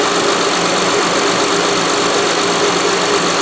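A 2006 Honda Ridgeline engine idles steadily with a newly installed serpentine belt and power steering pump, a close, even broadband running drone with no talk over it.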